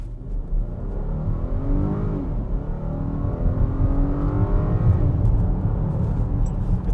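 A 2020 VW Atlas Cross Sport accelerating hard from a traffic light, heard from inside as a steady engine drone rising in pitch through the gears, with no talk over it.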